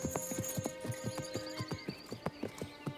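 A horse on a cartoon soundtrack clops along in a quick, steady hoofbeat rhythm, with a high whinny over the trotting, loud and close.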